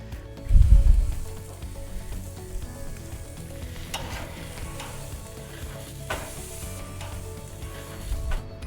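Dry-rubbed ribs with lemon juice and burgers sizzling on a grill, a steady close frying hiss that runs throughout, with a heavier thump near the start and a few sharper scrapes.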